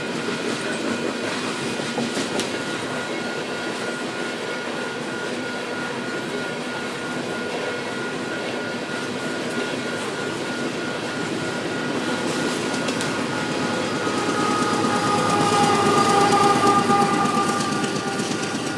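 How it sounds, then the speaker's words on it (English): An eastbound coal freight train curves into the Marysville subdivision at Gibbon, starting off in the distance and growing louder, with a continuous rumble, rail clatter and faint horn tones over roughly twenty seconds and no speech. "We're at Gibbon, and we see this eastbound coal train curving into the Marysville subdivision"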